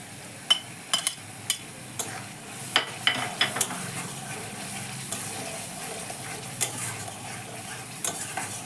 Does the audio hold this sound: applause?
no